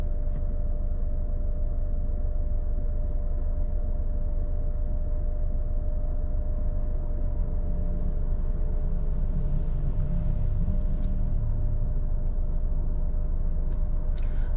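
Car driving through Gothenburg, Sweden, a constant road rumble and engine drone from inside the vehicle, with faint passing traffic and occasional ticks, no talking.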